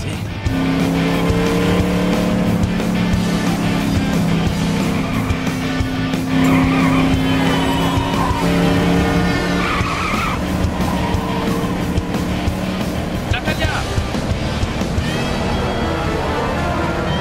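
A car in LEGO City Undercover drives hard with a loud, continuous engine roar while its tires squeal and skid repeatedly, staying up close and intense throughout.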